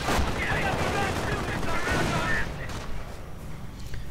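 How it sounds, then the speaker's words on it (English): Heavy gunfire from a World War II real-time strategy game, with a Panzer IV under attack, rattles densely and steadily throughout, loud and continuous with overlapping bursts, thinning slightly toward the end. "Panzer 4 coming under heavy fire."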